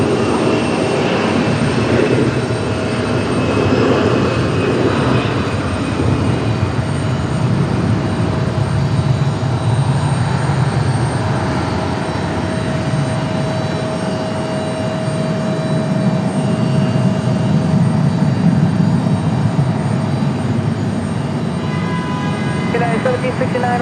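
A heavy jet airliner lands on runway 5 right at Raleigh-Durham International Airport, producing a sustained broadband engine roar heard at a distance outdoors.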